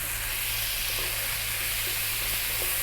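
Chopped tomato lands in a hot pan of frying sweet potato, giving a steady, loud sizzle and hiss with faint stirring and no talking.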